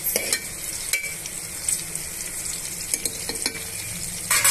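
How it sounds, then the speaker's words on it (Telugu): Bay leaf, cloves and cinnamon frying in a pan of oil for a chicken masala curry, a steady close sizzle with a few stirring scrapes and clinks throughout. "కొంచెం సేపు వేగనిద్దాం."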